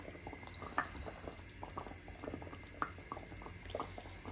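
Balmoș with sour cream bubbling in a pot, a steady low churn with scattered pops and soft splashes throughout, fairly quiet and close.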